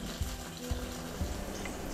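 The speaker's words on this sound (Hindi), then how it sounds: "और इसके अंदर हम डाल देंगे पानी।" Water poured into a pan for the tempering of a fasting-style dhokla, a steady low splashing wash with a few soft thuds, fairly quiet with no talking.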